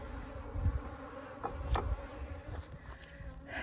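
Africanized honey bees swarm around a hive, a dense, steady buzz of many insects that stays close and constant, with a few louder passes near the listener and no talking.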